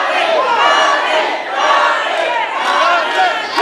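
A wrestling crowd at Cena El Rey, during a Grand Warrior Championship bout, cheers and yells in a loud, continuous swell that rises and dips.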